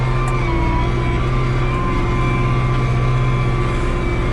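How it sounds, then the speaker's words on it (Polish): A Lamborghini 105 tractor engine runs in a field, a loud, steady low drone with a constant hum and no breaks or talk. "Lamborghini, najszybszy ciągnik we wsi."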